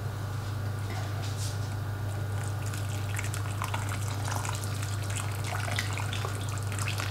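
Water pours steadily into a slow cooker of beef stew over vegetables and meat, a continuous splashing trickle heard alone against a low steady kitchen hum.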